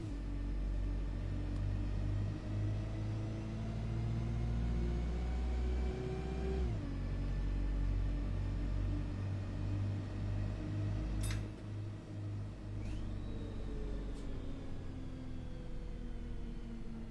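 A car engine in a driving video game hums and rumbles steadily, with one clear drop in pitch as it shifts gear and a few brief clicks, and no voices.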